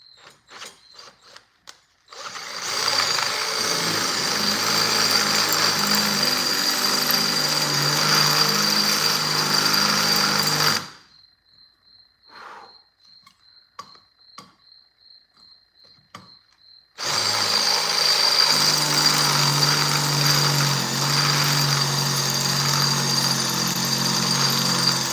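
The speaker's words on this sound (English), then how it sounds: "This is a lot of shit to drill through." Power drill boring through material in a workshop, a loud steady whirring grind for several seconds, a pause filled with clicks and clanks, then the drilling resumes just as loud.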